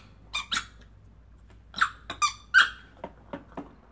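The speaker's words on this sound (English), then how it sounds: "this is the amazing Squeaker Ball medium" Squeaker Ball dog toy, medium size, squeezed in a series of short, sharp squeaks of varying length, close and fairly loud, with brief pauses between them and no talking.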